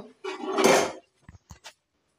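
A pot of boiled cauliflower is lifted off the stove: a close metallic scrape and rumble lasting under a second, followed by three short knocks of metal on a hard surface, then silence.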